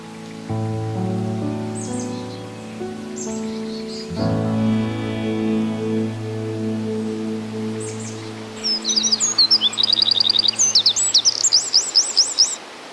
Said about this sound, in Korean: 목청껏 노래하는 새들의 배경음악은 덤이었습니다.